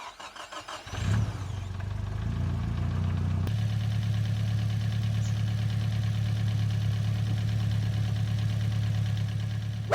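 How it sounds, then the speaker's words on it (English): A Nissan S15 Silvia with a bad VCT rattle cranks, fires and settles into a loud, close idle, a steady low engine drone with a fast rhythmic clatter running through it. "it might have a bad VCT rattle, and you might start the car and it might be knocking like crazy"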